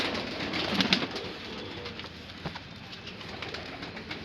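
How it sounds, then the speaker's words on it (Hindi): Large Shahjahanpuri breed pigeons coo faintly and intermittently in a quiet setting, with soft rustles and light background noise. "वो बहुत ही बड़े साइज़ के कबूतर हैं"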